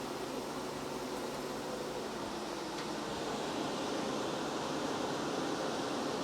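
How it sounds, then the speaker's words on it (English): Cold tap water rushes steadily through a wort chiller at the end of a homebrew boil, a continuous even hiss with no break. "I'm gonna turn the cold water on."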